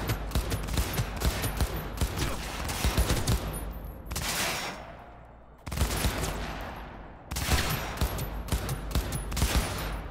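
Rapid automatic gunfire in the video game Cyberpunk 2077, several long bursts of crackling shots with brief pauses between them, loud and close with no talking.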